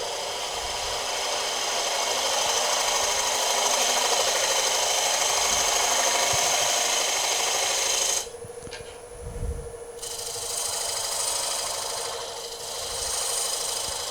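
A woodturning gouge pushes its bevel across a spinning wooden bowl on a lathe, giving a continuous loud scraping hiss that briefly drops off partway through and then resumes.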